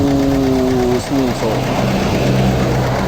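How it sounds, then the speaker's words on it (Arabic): A Renault Mégane 1.5 dCi diesel running rough on three cylinders, its uneven idle throbbing close by and shaking with a loose, lumpy rhythm while someone talks over it. "ملي كديماري كيبقى الموتور كيتحرك كيتزعزع بحال هكا"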